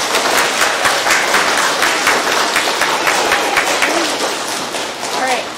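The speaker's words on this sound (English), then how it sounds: "let's give a big round of applause to the whole first edition that we've seen." An audience applauds after the first edition of a show, a dense steady wash of clapping that stays loud throughout with crowd noise mixed in.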